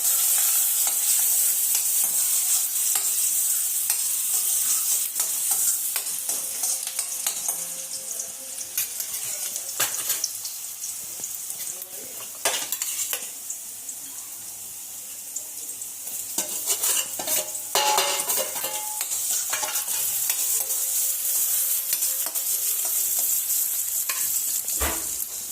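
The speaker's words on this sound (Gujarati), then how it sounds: "અને ડુંગળીથી વઘાર કર્યો." Sliced onions for vaghar sizzle and fry in hot oil in a pan, loud hissing throughout, broken by scraping stirring strokes and light clinks of a spoon against the pan; no one talks.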